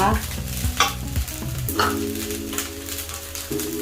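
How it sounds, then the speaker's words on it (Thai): Fried rice being stir-fried in a hot pan with crispy fried fish mixed through it: scraping spatula strokes and bursts of sizzling, close and steady, with no talking. "แล้วผัดได้เข้ากันค่ะ"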